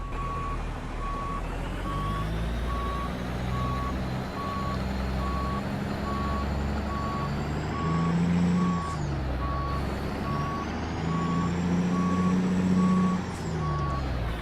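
A truck in American Truck Simulator reverses with a steady, evenly spaced beeping over a continuous low engine rumble, and the engine swells slightly in places.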